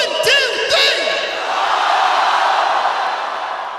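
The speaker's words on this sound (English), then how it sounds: "You call my name out real loud on the count of three" A concert crowd at a show in Sheffield shouts the singer's name together, opening with a couple of sharp yells before a loud, sustained roar of many voices that holds steady and slowly fades.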